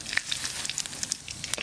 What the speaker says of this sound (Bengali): এক ফোড়নে রান্না করো। তেজপাতা, শুকনো লঙ্কা,